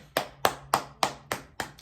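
A person clapping their hands to imitate a group of characters applauding: six crisp, evenly spaced claps in a quick steady rhythm, close and alone.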